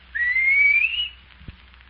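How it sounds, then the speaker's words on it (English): A single rising whistle, clear and close, held for about a second, followed by a soft low thump. "He always answers when I whistle to him."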